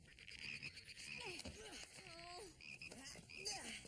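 Several frogs croak in quick, repeated calls, some rising and falling in pitch, close and fairly quiet against a faint buzzing insect-like background.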